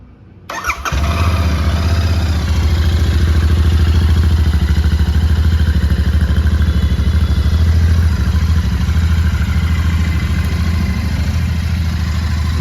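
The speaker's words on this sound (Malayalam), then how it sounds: "സ്റ്റോക്ക് എക്സോസ്റ്റിൻ്റെ സൗണ്ട് കൊള്ളാം." A Royal Enfield Interceptor 650 with its stock exhaust and about 14,700 km on it cranks briefly and fires up, then settles into a loud, steady, throbbing idle heard up close.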